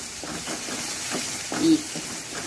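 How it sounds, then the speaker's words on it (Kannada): Onion and okra masala frying in oil over a low flame gives a steady, soft hiss, and a voice is briefly heard alongside it. "ಚೆನ್ನಾಗಿ ಸಣ್ಣ ಉರಿಯಲ್ಲಿ ಫ್ರೈ ಮಾಡ್ಕೊಳ್ಳೋಣ."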